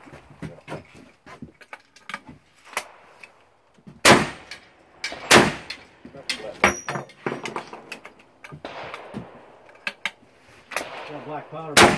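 A Henry rifle fires black powder shots outdoors, with several loud sharp cracks and metallic mechanism clanks between them, amid people talking.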